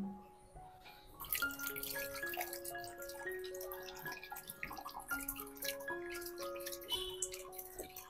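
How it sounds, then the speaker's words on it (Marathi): Water filling a tub being turned into a mini lotus pond, a quiet trickle with bubbling, dripping plinks and rising gurgling tones as the level climbs. "जसं जसं आता पाणी भरतंय"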